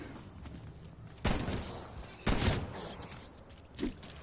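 GALO SA12 semi-automatic shotgun fired in Call of Duty, two loud, sharp blasts about a second apart followed by a smaller thud, with game ambience in between.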